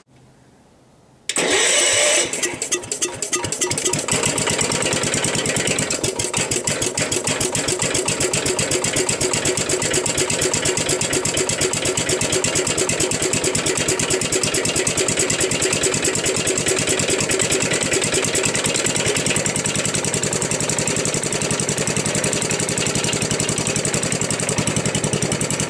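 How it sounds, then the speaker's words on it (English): A Wheel Horse Commercial 12 garden tractor engine makes a cold start: it cranks briefly, catches with a sudden loud roar, then settles into a steady, slightly uneven idle that runs close and alone for the rest of the recording. "now I'll go do a cold start of the Commercial 12."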